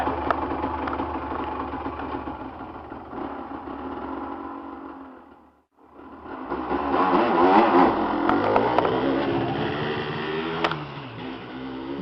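A quad bike engine idles steadily, close and fairly loud, with a brief drop to near silence midway before the rumble returns and builds slightly.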